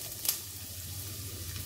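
Chopped ginger sizzles in hot refined oil in a wok, a steady close hiss with a brief scrape near the start.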